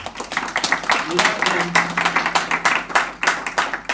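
Audience applause at a live Christmas celebration event, a dense run of clapping from a crowd with voices speaking underneath it throughout.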